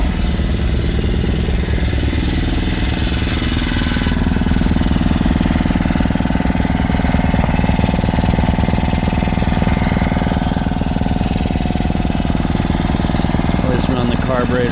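Portable generator engine running and warming up in winter, a loud, close, steady mid-pitched combustion drone with a slight rise in intensity partway through.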